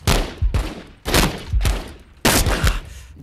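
Hostile enemies fire in The Walking Dead: Saints & Sinners, four loud, close bursts of gunfire in quick succession, each a rapid volley of shots, with no speech over them.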